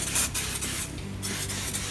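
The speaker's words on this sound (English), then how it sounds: "Give her a spray." Short hissing bursts of a can of non-stick cooking spray, a few quick spritzes close up with brief pauses between.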